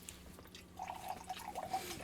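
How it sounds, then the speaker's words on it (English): Wine trickles faintly into a glass in a quiet room, a soft liquid pour that turns brighter and gurgly over its last second. "And once again you hear that long pour."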